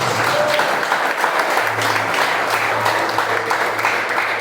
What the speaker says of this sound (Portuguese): Aplauda ao Senhor Jesus.